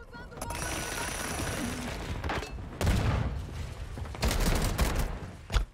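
Bursts of shotgun fire in Warzone 2.0, heavy blasts at irregular intervals with a loud final shot, mixed with background game noise.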